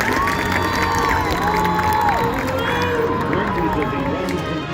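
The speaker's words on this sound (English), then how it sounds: "please give one more round of applause for the Nice job," An audience applauds and cheers for a high school band performing at a competition, a dense crowd roar with whoops and shouts that holds steady throughout, while a voice speaks over it.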